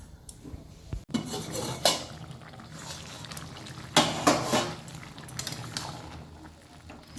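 A metal lid clanks onto a cooking pot holding gourd and shrimp curry, with a few sharp close clatters of metal cookware against a faint simmer.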